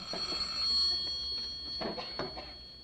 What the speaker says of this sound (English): Ah, there's the phone.